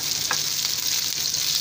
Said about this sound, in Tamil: அரிஞ்சு வச்சுருக்க ஒரே ஒரு வெண்டைக்காவை டேஸ்ட்டுக்காகனு நான் போட்டு தாளிக்கிறேன்.